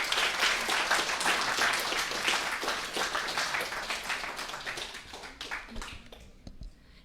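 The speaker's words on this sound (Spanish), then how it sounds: "quisiera que aquí el público unos aplausos" Audience at an educational conference bursts into dense, sustained clapping that gradually thins and fades toward the end, with a few scattered late claps.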